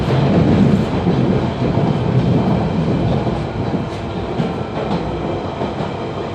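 A railway carriage runs along the rails on a passenger journey, giving a continuous loud rumble with a faint clickety-clack rhythm that eases slightly toward the end; no voices.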